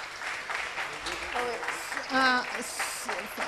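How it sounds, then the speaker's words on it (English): Graduation ceremony audience applauds the graduating batches, a quiet, steady patter of clapping with voices talking over it. "So can we have a big round of applause for the graduating batches, both the graduating batches, for their efforts."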